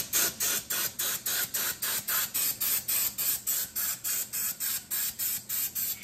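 A can of compressed air sprays in short, evenly spaced bursts of sharp hiss, about seventeen quick puffs in a steady rhythm, close and loud, used while dyeing a gun frame, with no talking.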